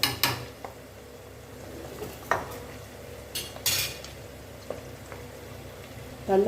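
Chana dal and green chilies frying in a pan for a mint pickle, with soft sizzling and scattered sharp spoon scrapes and clinks against the pan, close and fairly quiet.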